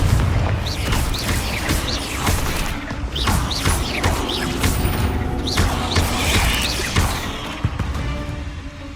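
Repeated Confringo blasting-spell explosions in the game Hogwarts Legacy, dense booms and crashing impacts over continuous rumbling combat noise, loud and sustained with no clear pauses.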